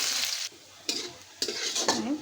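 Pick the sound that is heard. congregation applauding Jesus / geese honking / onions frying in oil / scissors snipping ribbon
onions frying in oil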